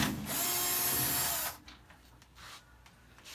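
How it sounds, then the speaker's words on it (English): A power drill whirs steadily for over a second while backing screws out of a Samsung top-load washer lid, then stops, followed by faint clicks and handling noises close by. "So we gotta remove these two other screws back here."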